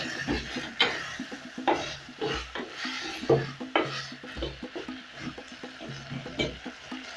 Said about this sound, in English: About 5 minutes later, this has been cooking its own juices. I'll add in my garlic.